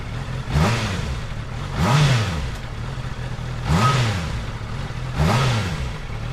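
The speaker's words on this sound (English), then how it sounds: "just start your vehicle once more, give it a few revs" A Honda CBR650R motorcycle engine revs four times in a steady rhythm, each rev rising and falling in pitch, close and loud over a continuous idle.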